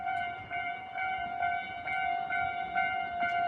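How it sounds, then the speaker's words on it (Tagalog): A steady horn-like tone with repeating rhythmic pulses, like a small train passing nearby, loud and continuous. "Ayan yung tren na maliit."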